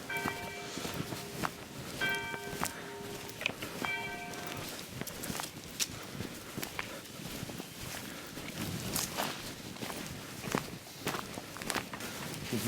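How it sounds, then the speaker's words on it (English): Church bells ring out a few clear tolls near a castle at a crossroads, heard early on over footsteps crunching along a path as people walk through. "The bells."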